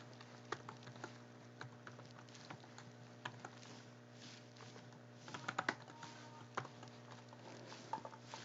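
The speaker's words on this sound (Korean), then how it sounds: "그래서 글씨를 입력해 보겠습니다" Computer keyboard keys clatter in scattered, quiet bursts during text entry into a slide, with irregular taps and a brief quick flurry over a steady low background hum.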